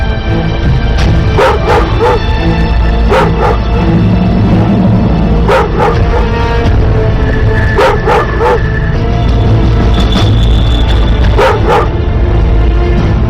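A dog barks again and again in irregular clusters of sharp yaps over a continuous noisy background, loud and near throughout, with a brief whine-like tone between barks.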